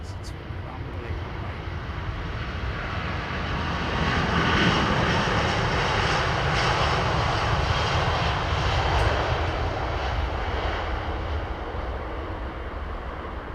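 Aircraft engines rumble at Heathrow Airport on a cold, foggy day, a deep continuous roar that swells and holds steady for many seconds, distant but powerful, with no talk over it.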